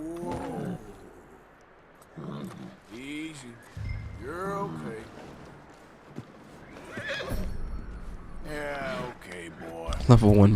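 In Red Dead Redemption II a horse whinnies and snorts several times with hooves shifting beneath, close and fairly clear, while someone talks intermittently over it.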